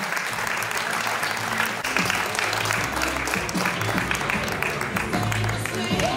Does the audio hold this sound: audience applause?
yes